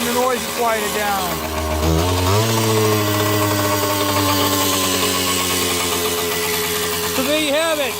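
A KD80 engine runs steadily and loudly with a dense buzzing drone, its pitch dipping and then rising once as the running smooths out, no voices over it.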